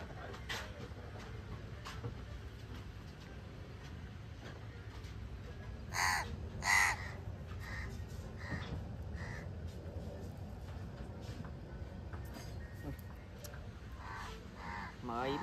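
Crows cawing outdoors in Egypt, with two loud, close caws about a second apart standing out over a steady murmur of background noise and faint distant voices.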